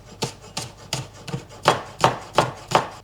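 Two spring onions being chopped with a knife on a board, eight crisp evenly spaced cuts, close and clear, with no talking.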